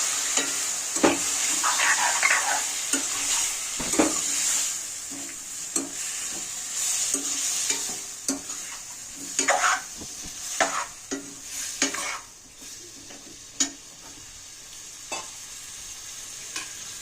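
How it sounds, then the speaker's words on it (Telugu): Boiled mutton pieces and bottle gourd chunks tossed into hot tempering for mutton dalcha, with a steady loud sizzle and repeated scraping stirs in an irregular rhythm, close by and without talk. "కుక్కర్లో ఉడికించుకున్న మటన్ ముక్కలు పోపులో వేసుకోవాలి."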